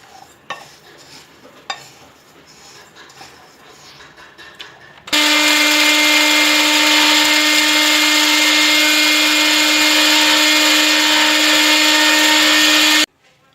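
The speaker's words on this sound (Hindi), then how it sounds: "ये सब चीज़ें मिक्स करके इसे ग्राइंडर में पीस लूँगी मैं" An electric grinder whirs loudly and steadily as it pulverises homemade chaat masala spices mixed with salt and citric acid, starting abruptly after soft kitchen handling sounds and running alone for about eight seconds before cutting off.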